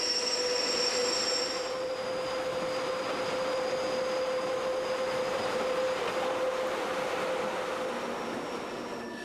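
Metal train wheels squeal on the sharply curved stone Brusio spiral viaduct in Switzerland, a steady high-pitched screech that holds continuously over rolling rail noise, loud and fairly close, easing slightly toward the end.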